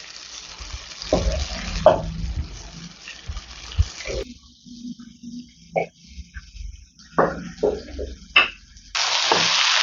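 Mashed boiled potato being sautéed and stirred in an oily pan for potato podimas, giving a steady close sizzle and frying crackle with intermittent scraping and stirring strokes, no talk.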